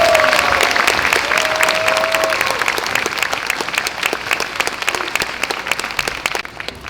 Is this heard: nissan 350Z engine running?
no